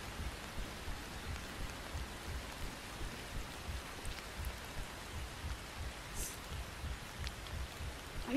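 Steady, soft video game rain in Roblox patters continuously, an even wash of falling drops with a faint low rumble beneath.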